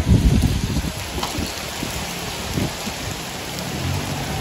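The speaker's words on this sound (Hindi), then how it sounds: "इतनी बारिश हो रही है" Heavy rain pours down in a dense, continuous hiss, with a few louder low thumps near the start and no voices.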